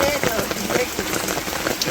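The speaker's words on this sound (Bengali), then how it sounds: "বৃষ্টির মধ্যে আবার ঝড় বাতাস হয়" Heavy village rain during a storm with wind, a dense close patter drumming on a surface that stays steady and loud throughout.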